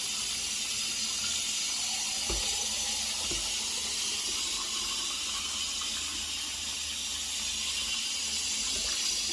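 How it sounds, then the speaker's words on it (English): Hot water runs from a tap into a container in a steady, continuous hissing rush, close by, with a couple of faint knocks partway through. "I'm going to fill that up with hot water"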